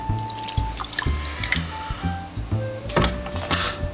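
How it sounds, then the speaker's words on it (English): Sauce drips and splatters onto a turkey being seasoned for a pressure cooker, giving a series of wet, irregular taps and trickles close by over a low steady hum. "just drip it down onto the turkey"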